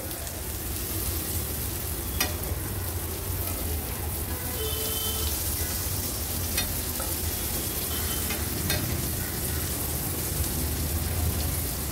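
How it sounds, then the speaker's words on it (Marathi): Raw banana slices fry in a small amount of oil for a Maharashtrian veg thali, giving a steady, close sizzle that runs throughout with a few sharp pops and light stirring, no voices. "तुम्ही बघू शकता अगदी कमी तेलावरच किती सुंदर असे हे तळून होतात"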